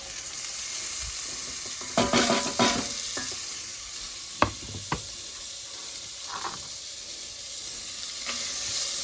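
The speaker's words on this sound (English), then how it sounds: "Get that stirred around in the pot." Diced onion and bacon ends sizzle steadily in a pot, a constant bright hiss broken by a few knocks and scrapes as a spoon stirs them around.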